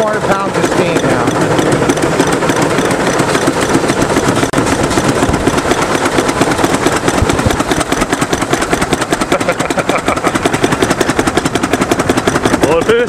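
A steam car engine runs under about 400 pounds of steam pressure, producing a loud, rapid, even churning beat that holds steady from start to finish while voices talk nearby.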